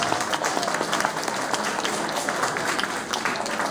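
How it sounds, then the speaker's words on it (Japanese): An audience at the T-1 Grand Prix 2011 award ceremony gives dense, sustained applause, a steady wash of many hands clapping throughout, with faint voices mixed in. "どうぞもう一度大きな拍手をお送りください。"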